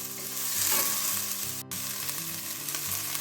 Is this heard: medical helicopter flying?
no